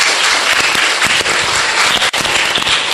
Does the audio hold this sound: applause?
yes